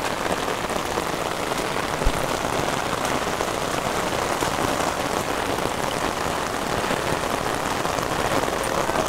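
Steady, dense rainfall pattering on a surface at a flooded house in Vietnam, a continuous hiss of drops with no voices.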